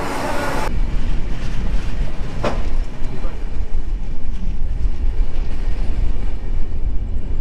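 The Shalimar–Secunderabad train runs with a loud, steady rumble and rattle of the carriages, heard from close by, with a brief sharp burst near the start.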